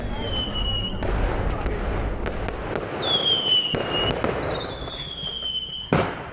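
Fireworks at a rural lantern festival in China: whistling rockets streak upward several times and pop and crackle amid a busy crowd, ending in a sharp close burst.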